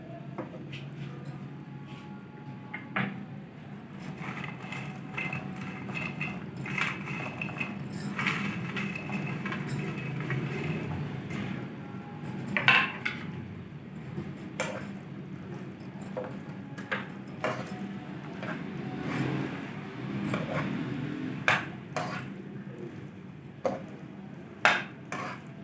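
Roasted bread pieces stirred into caramel in a pan, a steady scraping and clattering of a spoon against the pan with soft, sticky shuffling and occasional sharper knocks, close and fairly quiet.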